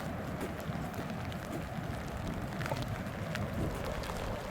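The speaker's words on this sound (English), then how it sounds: "as this little rain shower passes" A light rain shower patters steadily on surfaces nearby at Pacific Beach State Park, Washington, a soft continuous hiss of drops with no voices.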